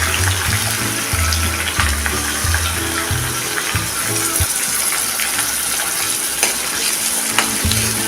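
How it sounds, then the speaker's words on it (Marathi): Finely chopped onion sautéing in oil with a bay leaf and curry leaves for a potato curry: a loud, steady sizzle, with a spatula thudding and scraping repeatedly against the pan. "कांदा मऊसर होईपर्यंत आपण चांगला परतून घ्यायचा आहे"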